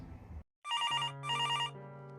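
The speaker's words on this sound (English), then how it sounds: "This time I pick up the phone." Telephone ringing: after a brief silence, two close electronic trilling ring bursts sound, then a sustained tone lingers at the end.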